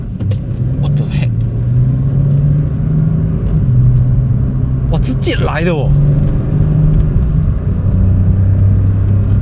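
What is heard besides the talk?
hybrid Porsche 911 engine accelerating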